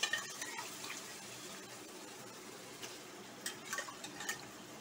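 Spoon stirring cooked mutton in a pot for biryani, faint scraping and light clinks against the metal with a soft steady sizzle underneath, no talking.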